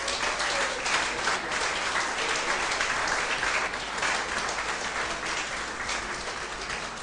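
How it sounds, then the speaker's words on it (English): An audience in a Methodist church in Ghana applauds steadily in a dense, continuous round of clapping that stays fairly even throughout. "give a big round of applause"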